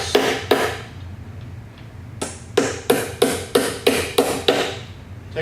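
About nine soft taps seat a go-kart axle cap onto a wheel axle, two isolated knocks followed by a pause and then an evenly spaced series of close, sharp raps.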